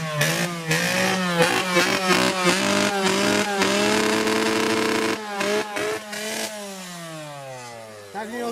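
A Kawasaki SX65 two-stroke dirt bike revs up and down, close and loud, its buzzing engine pitch rising and falling through repeated throttle blips before winding down near the end.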